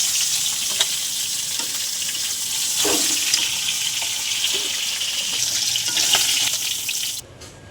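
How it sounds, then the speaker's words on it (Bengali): Fish heads seasoned with salt and turmeric fry in hot oil in a kadai, giving a loud, continuous crackling sizzle with occasional stirring bumps until it cuts off abruptly near the end. "তেল গরম হয়ে গেছে, মাছের মাথাগুলো ভেজে নেব।"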